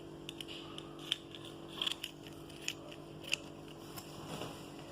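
Scissors snip fabric during a sewing lesson on lining a skirt slit, a series of faint, sharp clicks scattered irregularly over a quiet room.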